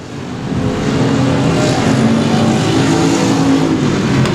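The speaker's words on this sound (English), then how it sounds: "Coming into turn 1 and 2, your leader is still the 8X of Doug Andrews." Race cars roaring around the Cotton Bowl Speedway track in a sustained, loud engine drone that holds steady throughout, several cars blending into one continuous buzzing rumble.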